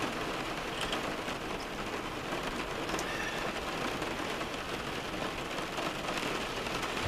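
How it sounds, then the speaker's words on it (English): Steady wind-blown rain pours down in a continuous dense hiss, close and fairly loud, with no pauses and no voices over it. "we got this spooky side where it's blowing rain coming down."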